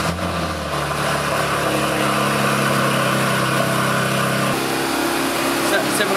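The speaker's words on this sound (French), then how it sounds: "Je sais pas si on peut allumer la voiture." Engine of a 2017 Porsche 911 GT3 RS running steadily at idle, a continuous close-up mechanical hum with a slight shift in tone midway, without any voices.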